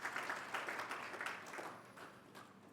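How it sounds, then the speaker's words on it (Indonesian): A church congregation claps at a Sunday service, a faint, sustained wash of many hands clapping heard from a distance, fading slightly toward the end. "Tepuk tangan lagi dong bagi Tuhan Yesus"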